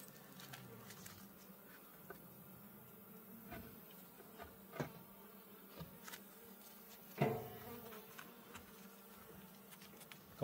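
Bees buzz faintly around Layens hives outdoors, a soft, continuous insect hum with occasional nearer passes and light taps, without talk.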